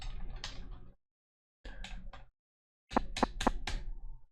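Key unlocking a door in the puzzle video game Transition: three separated bursts of clicking, metallic mechanism sounds, the last a rapid run of sharp ratcheting ticks, fairly close and clear.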